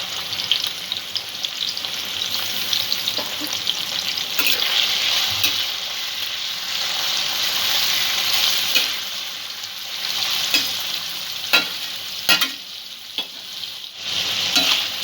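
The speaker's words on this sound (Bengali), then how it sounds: "মিনিট 2 ভেজে নিয়ে আমি চিংড়িটা তুলে নেব।" Shrimp sizzling steadily in hot oil in a frying pan, with occasional stirring scrapes and clinks over the continuous close frying hiss.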